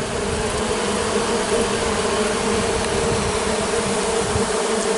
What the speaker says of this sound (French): les abeilles qui ventilent